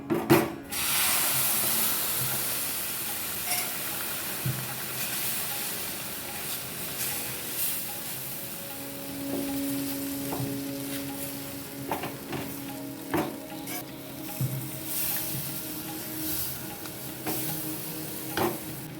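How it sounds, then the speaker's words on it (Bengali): Milk poured into fried gram flour in a pan makes a close, steady sizzle and hiss. Repeated scrapes and clinks of stirring run through it, with no talking. "আমি বেসনটা ভেজে নিয়েছি আমি এবার দুধ অ্যাড করব"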